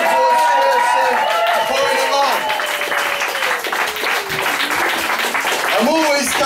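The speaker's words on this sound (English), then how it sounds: "Big round of applause for Jenny" An audience at a poetry performance claps and cheers, applause swelling under a loud host's voice talking over it, with scattered whoops near the end.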